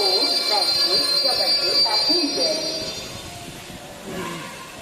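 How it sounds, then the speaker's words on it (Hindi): Madan Mahal suburban railway station in Jabalpur, India: a train's metallic hum and faint squealing wheels, a high steady tone above, and murmuring voices in the background. "यह मदन महल रेलवे स्टेशन जबलपुर का उपनगरीय रेलवे स्टेशन है।"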